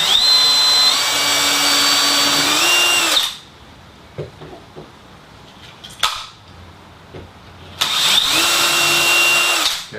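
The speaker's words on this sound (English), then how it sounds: "I drill my test hole right in the center of where that will be" A power drill bores a test hole up into a ceiling, whining loudly at full speed for about three seconds, stopping for a few quiet seconds with small clicks, then spinning up again for another burst.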